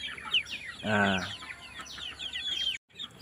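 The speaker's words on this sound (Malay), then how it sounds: "yang ni pula anak ayam kacuk juga" Crossbred chickens and young chicks at a home farm, clucking and cheeping close by in short bursts, with one louder hen call near the start and chirps scattered throughout.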